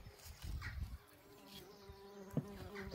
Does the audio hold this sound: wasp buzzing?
yes